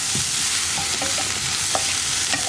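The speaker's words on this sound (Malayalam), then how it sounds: "ഇത്രയും ചേർത്തിട്ട് വഴറ്റിയെടുക്കുക." Onion, green chillies and curry leaves sauté in a hot pan for a tomato curry, giving a steady close sizzle of frying throughout with a few light stirring scrapes and no talking.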